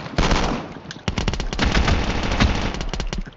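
Rapid automatic gunfire from the mobile shooter game Call of Duty Mobile, loud dense bursts of shots that pause briefly and then resume in a sustained close volley.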